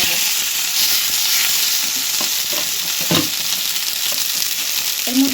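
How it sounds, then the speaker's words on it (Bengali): Young gourd leaf paste, seasoned with nigella seeds, sizzles in a frying pan while a spoon scrapes and stirs it, a dense steady hiss close up with occasional soft knocks of the utensil. "এটা নেড়ে নেব।"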